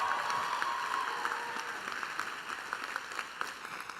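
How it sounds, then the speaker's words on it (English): An audience at a 2021 commencement ceremony claps between graduates' names: a dense, continuous patter of many hands at moderate distance, gradually fading slightly, with no speech over it. "You're welcome to clap between names."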